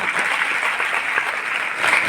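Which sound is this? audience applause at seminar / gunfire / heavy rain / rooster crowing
audience applause at seminar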